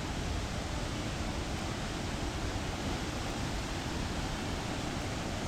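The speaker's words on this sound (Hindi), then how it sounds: "झरने की आवाज़ हमें बड़ी तेज़ आ रही है क्योंकि अभी मानसून का टाइम है" A loud monsoon-season waterfall in a dense, rain-soaked mountain forest roars in a broad, steady rush of falling water that stays constant throughout, with no voices.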